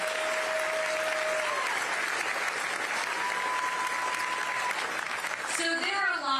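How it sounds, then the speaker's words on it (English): A large crowd at a town hall campaign event in Milford, New Hampshire applauds Hampshire Hills with loud, sustained clapping and a few whistles, and a voice then starts speaking near the end. "Can you please give them a round of applause and thank them?"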